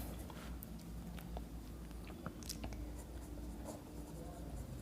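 A pen scratches across paper in short strokes, close and quiet against a low steady background hum.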